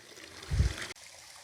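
A small, flat creek at the Cincinnati Nature Center flows and trickles gently nearby, with a faint gurgle in the middle and no talking.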